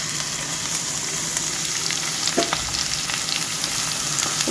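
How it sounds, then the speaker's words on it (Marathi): Bitter gourd frying in a pan with fried onion: a dense, steady, close sizzle that carries on without a break, with a faint stir or clink partway through and no talking. "भाजून जालो तो कांदो आता आमी कारांटे घालया"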